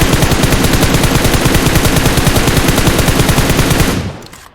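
Sustained automatic gunfire in the mobile battle royale game PUBG Mobile: a loud, rapid, evenly spaced burst of shots lasting about four seconds before cutting off and fading, with no talking over it.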